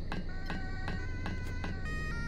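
An ambulance siren in Roblox sounds faint and distant as a rapid, regularly pulsing electronic tone, repeating about every third of a second over a low background hum.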